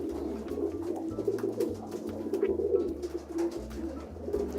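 Pigeons coo in a loft with a continuous layered murmur of low, rolling calls from several birds nearby, over a faint background rumble.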